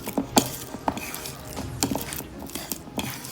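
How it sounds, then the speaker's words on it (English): A spoon works through a stiff, partly frozen cream cheese wonton filling in a bowl, giving irregular scraping and clacking strokes against the dish, close and fairly quiet. "Just want to mix it the best as possible"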